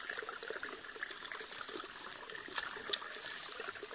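Running water splashes and trickles steadily over a large rock gecko plant tuber being rinsed by hand, a continuous close wash with small bright splashes throughout.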